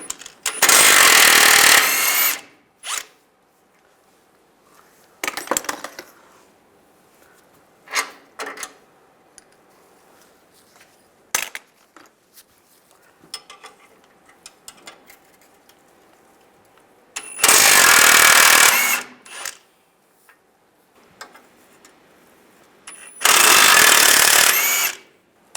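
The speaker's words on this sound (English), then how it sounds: "use an 18mm wrench and an 18mm socket" A ratchet or power tool loosening 18mm bolts on a 2007-2013 Chevy Silverado during timing chain work, heard as three loud bursts of a couple of seconds each, separated by quiet stretches with scattered clinks and taps.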